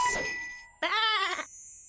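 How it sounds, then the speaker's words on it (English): A small set of bells rings out in a quick, bright jingle at the start, fading fast, then a short, voiced, bleat-like sound follows. "Yes, that's right. It's some bells. Bells."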